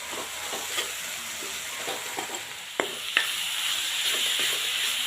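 A spice mixture with ground black pepper is stirred and dry-roasted in a pan for momos, a steady sizzle broken by scraping strokes of a spoon and two sharper knocks against the pan.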